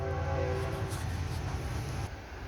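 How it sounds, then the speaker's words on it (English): A train rumbles past close by, a steady heavy roar with a tonal horn-like note early on. "Dadgum trains. I had to pause you for a minute."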